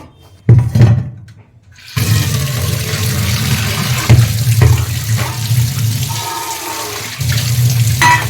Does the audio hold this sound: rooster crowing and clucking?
no